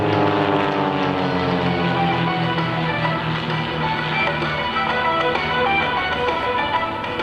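Propeller aerobatic aircraft at an air fair flying a hammerhead turn and quarter roll, its engine droning loud and continuous with steady harmonic tones that shift in pitch as the plane maneuvers.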